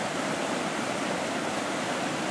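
Water rushing through two culverts at the bottom of a hill along an urban cycling trail, a loud, steady broadband roar of flowing water with no pauses and no voices.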